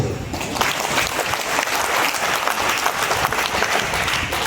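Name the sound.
audience applause in a class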